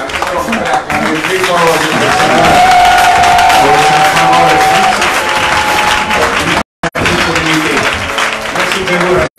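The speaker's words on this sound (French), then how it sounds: "Est-ce qu'on peut acclamer le Seigneur?" A church congregation at a Sunday service claps and cheers loudly, a dense sustained wave of applause and whoops with a high sustained vocal tone rising over it, then a brief cut before the clapping resumes.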